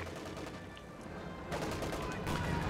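Rapid machine gun fire from British Vickers guns in Company of Heroes 2, a World War II strategy game battle, rattling continuously amid distant battlefield noise and growing louder partway through.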